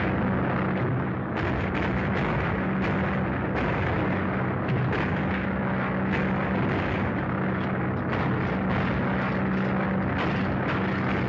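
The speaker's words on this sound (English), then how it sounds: "There's a stolen plane over your section." A stolen propeller airplane flies overhead in a 1943 serial, its engine droning loud and continuous beneath bursts of anti-aircraft artillery fire, with no voices.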